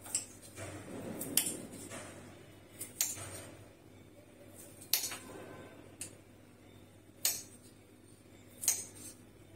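A peeled onion being cut with a knife, giving a series of sharp, separate clicks against a board at roughly even intervals, close and fairly faint over a low background hum.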